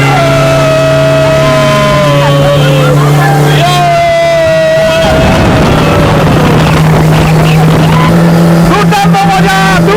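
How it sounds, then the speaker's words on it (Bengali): Loud, close speedboat engine droning steadily on a lake at Ramgarh in Jharkhand, its pitch shifting as the boat moves and a second engine rising near the end, while people talk over it. "আমাদের একটা বোট যাচ্ছে।"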